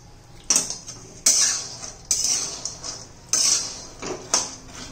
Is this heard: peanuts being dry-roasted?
yes